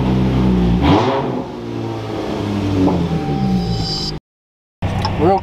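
An AWD Dodge Challenger starts and revs close by, its engine rising in a couple of throaty pulls before settling into a rumbling idle, cut off by a brief gap of silence and then resuming.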